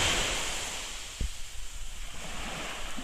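Small sea waves wash in at Yumurtalık's Tarım Kredi beach on a mild November day with a light northeasterly breeze. The surf is a soft steady rush under wind buffeting the microphone, with one brief low thump.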